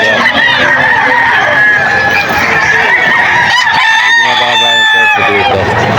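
Chickens and roosters at a Friday poultry market in Bocaue, Bulacan, with loud, repeated crowing and clucking close by, overlapping throughout and heard under a man's speech.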